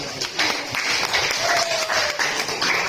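Applause from a group in a classroom or workshop session, steady clapping of moderate loudness with faint voices mixed in.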